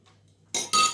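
Fresh young cheese being spooned into a bowl for a cheese and garlic salad, heard as two close, bright clinks of a spoon against the bowl after a quiet moment.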